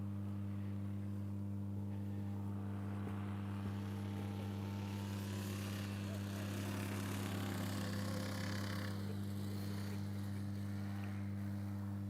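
A racing hovercraft with a four-stroke engine drones steadily at a hovercraft race meeting, its loud engine note swelling and shifting midway as it passes, with no talk.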